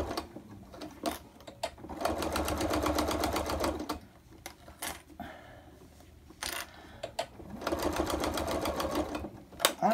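A sewing machine stitches a laptop bag at normal stitch length, running in close bursts of rapid needle clatter with short pauses between runs as the fabric is guided around corners.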